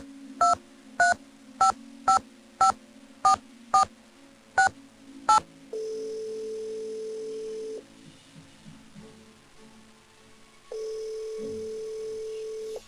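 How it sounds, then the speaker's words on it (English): Telephone keypad tones from the Nancy Drew game Secrets Can Kill: eight crisp evenly spaced dialing beeps, then a long steady tone, a pause with faint clicks, and a second tone, all clean and close. "Let's make phone calls to Nancy's friends."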